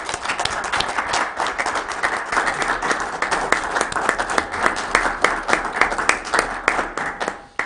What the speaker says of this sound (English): if you'll just please give them a round of applause